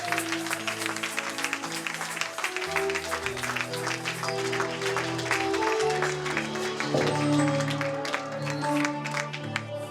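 A congregation at a church women's conference claps for Jesus, a sustained, dense applause over a backdrop of music.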